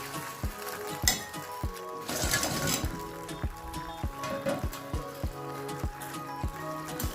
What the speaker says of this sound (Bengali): এরপর আমি দিয়ে দেব ভেজে রাখা চিকেনগুলো